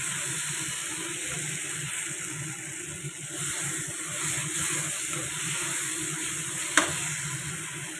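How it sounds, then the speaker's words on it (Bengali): Food is stirred and fried down in a pan with a soft, steady sizzle, scraping and stirring noises. A single sharp clink sounds near the end. "এবার একেবারে নাড়িয়ে নাড়িয়ে একদম পুরো কষিয়ে কষিয়ে একটুখানি করে নেবো একদম"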